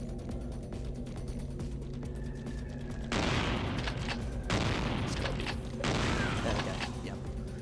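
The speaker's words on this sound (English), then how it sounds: "It's a shotgun!" Shotgun fire in Vampire: The Masquerade - Bloodlines, three loud broadband blasts at irregular intervals over a low humming game background with mechanical clicks.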